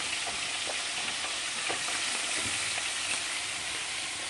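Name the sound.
food frying in a pan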